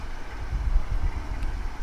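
Low, rumbling wind noise buffets the microphone in uneven gusts at DFW Airport, a muffled roar with no speech over it.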